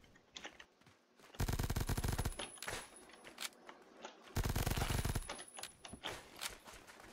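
Bursts of automatic gunfire rattle out in a first-person shooter game, two loud sustained volleys separated by scattered single shots and clicks.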